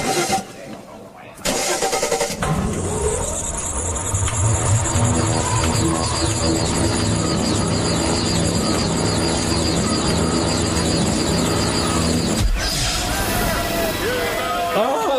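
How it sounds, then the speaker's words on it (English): A science-fiction time machine powers up with a rising engine-like whirring hum that swells and holds steady, loud and dense, then cuts off abruptly near the end. "Activate the time machine."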